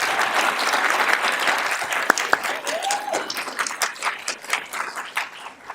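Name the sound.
applause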